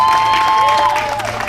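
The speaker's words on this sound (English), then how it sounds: "give that recruit a round of applause" Crowd applause and cheering for a recruit at a St Kitts and Nevis Defence Force passing out parade, a brief loud outdoor burst of clapping with a tonal whine running through it.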